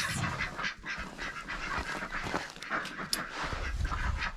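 Homestead ducks greet the morning with a steady run of quacks and honking calls close by, filling the whole stretch with no talking.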